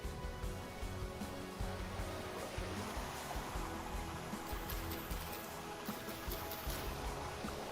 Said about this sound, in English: This is a very loud waterfall that will eventually power our water wheel.